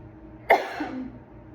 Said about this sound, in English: I'm coughing because I'm allergic to cats